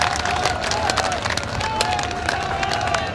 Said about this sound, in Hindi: सारे लोग एक बार हाथ उठाकर तालियां बजा दीजिए